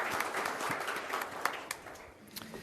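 A council meeting audience claps in sustained applause, a dense crackle of many hands at moderate distance with a few louder individual claps standing out.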